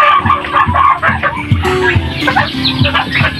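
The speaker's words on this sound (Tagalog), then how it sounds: "Pato manok." Chickens and ducks cluck busily and continuously close by, a dense flock of overlapping clucks and squawks with no pauses.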